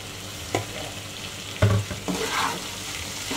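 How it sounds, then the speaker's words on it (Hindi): Chicken frying on a medium flame with green chillies, coriander and mint, giving a steady close sizzle broken by a few stirring scrapes and clatters in the pan. "मीडियम फ्लेम पे मैंने इसको फ्राई कर दिया है लाल होने तक।"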